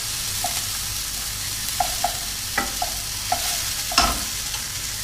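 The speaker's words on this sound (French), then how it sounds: "je fais revenir le tout sur feu assez moyen pendant quelques minutes" Mushrooms sautéing in a pan over medium heat give off a constant close sizzle, with soft repeated taps and scrapes of a spoon stirring them.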